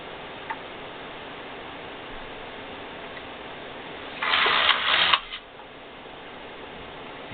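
The carriage of a Singer knitting machine slides across while knitting a sock, making a single short, rasping sweep of about a second that stands out against a quiet, faintly hissing room.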